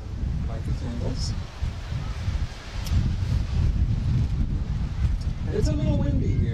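Gusty wind blowing outdoors at an outdoor wedding, rumbling against the microphone in uneven surges, with soft rustling and a few faint voices in the background.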